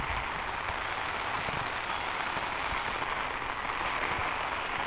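Heavy rain pours steadily onto surfaces around a terrace house in Shanthinagar, a dense, even hiss with close spattering drops that never lets up.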